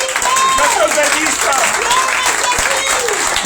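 A church congregation at the opening service of the Feast of Tabernacles claps and cheers loudly and steadily, with a voice speaking and calling out over the applause.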